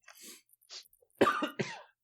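Several harsh coughs, a few quieter ones early on, then two loud close bursts near the end, with no talking.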